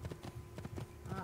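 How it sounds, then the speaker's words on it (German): Horse hooves clip-clop in the video game Assassin's Creed 2, a short run of quick, fairly faint hoof beats mixed with game ambience and a voice talking over them. "Oh, ein Pferd."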